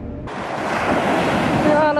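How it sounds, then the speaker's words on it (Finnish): Ocean surf rolls in on the beach at Fuengirola, Spain, a wash of breaking waves and wind noise building after a brief quiet start, with a voice faintly heard at the end. "Ne aallot on niin mielettömiä."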